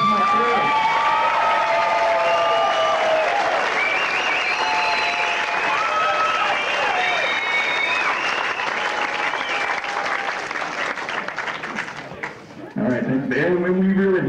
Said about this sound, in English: So hey, how about a round of applause for my crew?